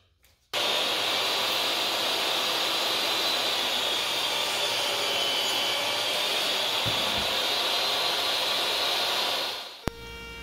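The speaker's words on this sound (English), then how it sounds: "the time has come to cut the breadboard ends to the proper length" Power saw trimming the breadboard ends of a wooden farmhouse table to length, a loud steady whining cut held for about nine seconds before winding down, with no talk.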